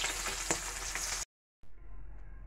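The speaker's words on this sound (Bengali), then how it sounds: "মাছগুলোকে সুন্দর করে ভেজে নেব প্রথমে" Katla fish pieces frying in oil, a loud crackling sizzle cut off by a brief silence, then resuming more quietly.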